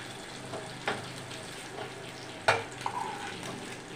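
A gentle, steady sizzle of fish frying in oil, broken by a few sharp scrapes and knocks of a utensil in the pan.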